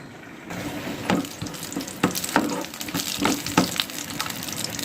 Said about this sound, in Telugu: కొద్దిగా ఆయిల్ వేసి జీడిపప్పు వేసుకుందామండి. వేసుకొని వేపుదాము గోల్డ్ కలర్ వచ్చే విధంగా.